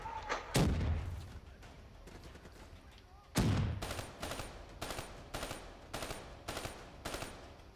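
Grenade explosions and gunfire in the Black Ops 3 video game, realistic mode: two loud booming blasts a few seconds apart, the second followed by a rapid series of sharp shots, with a dull rumble between them.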